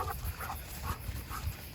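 A dog out in a forest at night, making a few soft, short sounds in a steady rhythm, close by and fairly quiet against the dark surroundings.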